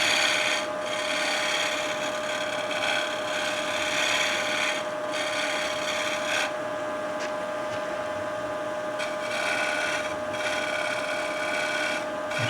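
Close, steady rasping scrape of a tool against fresh-cut green wood turning on a wood lathe, a continuous dry rubbing texture over a constant motor hum for about twelve seconds, with brief dips where the tool lifts.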